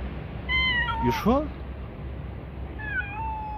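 A cat meows several times, rising and falling calls up close, with a second shorter meow near the end, while a person speaks softly in between.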